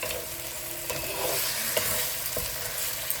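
Onion is stir-fried with chicken for a malai chicken curry, a close, steady sizzle mixed with scraping strokes of a spatula in the pan and no voices.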